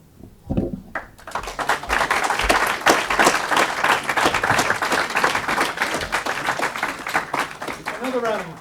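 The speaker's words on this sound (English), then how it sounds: "Another round of applause." An audience at a book talk on Reagan bursts into a loud, sustained round of applause with dense clapping and some crowd noise, continuing for several seconds after a brief quiet start.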